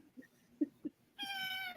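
A house cat meows as a short run of harmonic cries near the end, preceded by a few soft thumps and low murmurs in a quiet indoor room.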